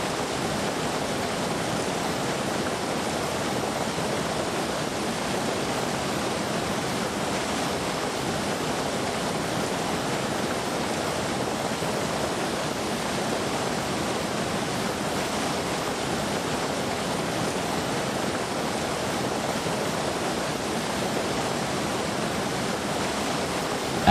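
Steady, dense rushing of a freshwater stream, a continuous broadband roar with no pauses, close and loud throughout, with fish swimming and jumping upstream.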